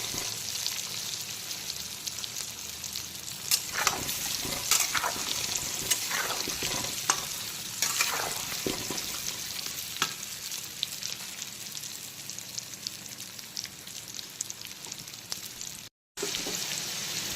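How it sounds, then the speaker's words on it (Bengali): Turmeric-coated potatoes frying in oil on full flame, with a dense, continuous sizzle and crackle and occasional stirring scrapes, steady throughout except for a brief dropout near the end. "আলুগুলোকে আমরা যেরকম রান্নার আলু বা মাংসের আলু যেভাবে ভাজি, সবার প্রথমে সেইভাবে ভেজে তুলে নেব।"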